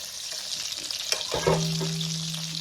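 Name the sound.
meatballs sautéing in a pan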